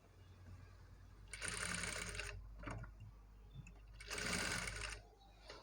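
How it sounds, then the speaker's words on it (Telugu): A sewing machine runs slowly over invisible piping on a neckline, two steady whirring bursts of stitching, close by, with quiet pauses and faint clicks between. "నేనైతే ఇలా మెల్లిగా స్టిచ్ చేసుకుంటూ వస్తున్నానండి. ఇది ఫాస్ట్గా చేయొద్దండి, కొంచెం స్లోగానే చేయాలి."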